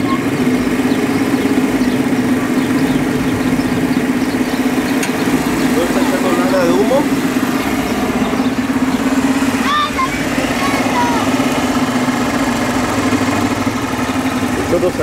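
Carabela VX motorcycle engine with low compression running steadily at idle for the whole stretch, a continuous mid-pitched drone with faint talk in the background.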